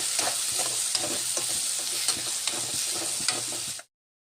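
Two chopped tomatoes and a little sambar masala fry in a pan with a bright, constant sizzle, punctuated by scraping stirs, before cutting off abruptly.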